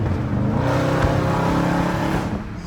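A loud SRT car engine revs and holds a steady roar, close up, with no talking over it.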